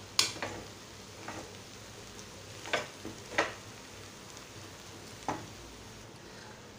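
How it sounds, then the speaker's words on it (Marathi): Cooked rice being stir-fried in a pan for a seasoned rice dish, with soft steady sizzling and several sharp spatula scrapes and taps recurring every second or so, no voices. "आता आपण परतून घेणार आहोत, व्यवस्थित परतून घेणार आहोत।"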